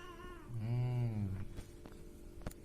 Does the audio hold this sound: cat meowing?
yes